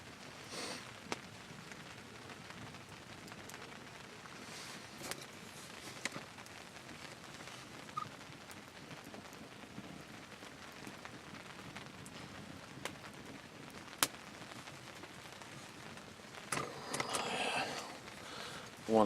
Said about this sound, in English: Not very hard, but it is raining.